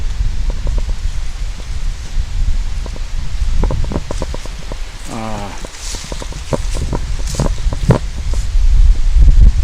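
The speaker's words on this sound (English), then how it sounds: "that wind's blowing bad, so we got definitely some wind contamination" Strong wind buffets the microphone on a night hike outdoors, a loud continuous rumbling roar that swells and gusts throughout, with scattered clicks and brief handling noises on top.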